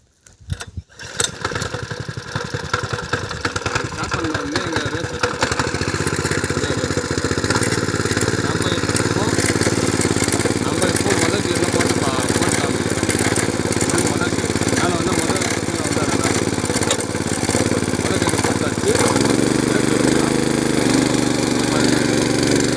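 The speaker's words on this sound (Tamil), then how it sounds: "நியூட்ரல் பண்ணிட்டு இப்போ நம்ம ஸ்டார்ட் பண்ணலாம்" A farm power weeder engine is started after a few rough pulls, then runs continuously at a loud, close, buzzing putter that shifts slightly in pitch near the end.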